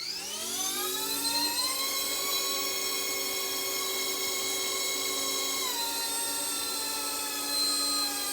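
An RCERA MD500 radio-controlled helicopter's rotor spins up, its whine rising steeply in pitch over the first two seconds, then holding a steady, loud, close high-pitched drone, with a brief dip partway through and no voices.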